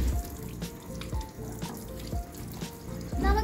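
Water spraying from an adjustable pet shower sprayer and scrubber, a close splashing hiss with drips and small knocks, its flow shifting unevenly.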